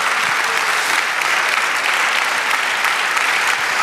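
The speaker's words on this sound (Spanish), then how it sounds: "Dale aplauso al Señor." A church congregation applauds the Lord during a sermon, a dense, continuous roar of many hands clapping at once that stays loud and even from start to finish.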